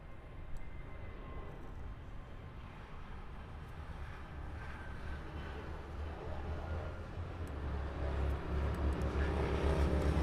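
A jet airliner rolls for takeoff on runway 25 right at LAX, a distant broad roar that swells steadily louder over wind noise.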